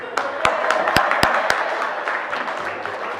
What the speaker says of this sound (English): Just a reminder, there should be no clapping in the House of Assembly.